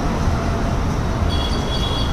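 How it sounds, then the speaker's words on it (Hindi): Delhi Metro train at Rajouri Garden station, a steady low rumble of the train with station ambience throughout, and a faint high tone entering near the end. "ये रजौरी गार्डन मेट्रो है,"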